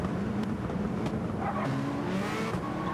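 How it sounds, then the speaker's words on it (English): Race cars in an online racing game's Nations Cup event accelerate side by side in a drag race toward the first turn, a steady, loud engine drone with rising revs filling the whole stretch, no voices. "we got a drag race to turn 1"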